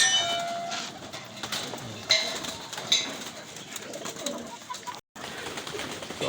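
Pigeon cooing faintly beside an empty lot outdoors, soft low calls under rustling and background noise, with a brief dropout near the end.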